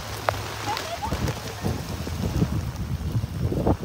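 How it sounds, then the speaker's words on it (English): Rain falling outdoors, a dense hiss of drops pattering on surfaces with low rumbling underneath, steady and fairly close, with brief voices over it. "It's raining."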